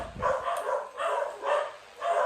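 Dogs barking at a home where bulig fish is being cooked, four evenly spaced, fairly loud barks in a row, each lasting about half a second.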